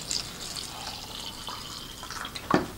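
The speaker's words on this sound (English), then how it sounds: "And then next add some water here." Water is poured into the jug of a HadinEEon GS-651 adjustable speed blender holding berries and carrots, a soft trickling splash ending in a brief sharper drip.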